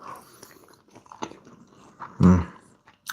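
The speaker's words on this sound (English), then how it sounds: "I don't know if you can hear me process the food with the mic now." Food from a late-night kitchen meal being chewed right at the microphone, with soft crunching bites throughout and one loud, close crunch near the end.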